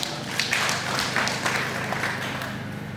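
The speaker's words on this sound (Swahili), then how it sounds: "tumpigie makofi" A training-session audience claps together in a steady, dense patter of many hands, moderately loud and fairly even throughout, with no talking over it.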